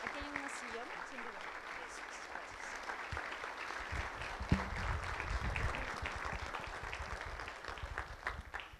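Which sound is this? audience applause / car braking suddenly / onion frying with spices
audience applause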